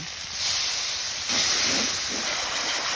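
A spice paste of cumin, green chilli, turmeric, chilli powder and salt hisses steadily in a pan as a little water is added for frying. The broad sizzle is close and moderately loud, with no talking.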